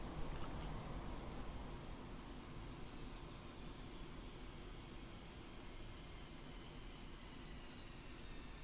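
In the DCS flight simulator, an aircraft engine whines steadily as the throttle comes up, a continuous jet roar with a slowly rising high tone and no voices.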